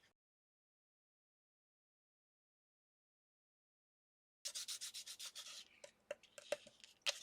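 Dry rubbing of paste and wax across a mixed media tag, silent at first, then a run of quick, close, rhythmic scratchy strokes that turn into sharper separate rubs.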